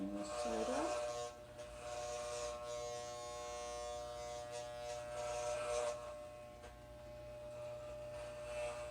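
Electric hair clippers buzz steadily while trimming the side of a head during a home haircut. The motor hum is close and fairly quiet, with brief louder passes as the clippers move through the hair.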